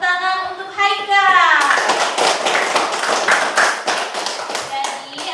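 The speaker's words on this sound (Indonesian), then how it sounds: "Tepuk tangan untuk Haika." A class of children claps their hands for a classmate, a burst of dense, uneven applause that starts after a teacher's short spoken line and carries on steadily for several seconds, close and loud.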